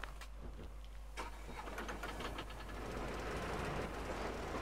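A motor draisine engine turns over and starts in the video game Metro Exodus, a rising mechanical rumble that builds into a steady idle, moderately loud and close, with no talk over it.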